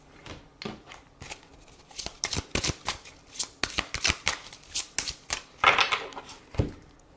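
Tarot cards being shuffled by hand and then cut, a steady run of crisp riffling slaps and flutters that picks up pace, close and clear with no talking.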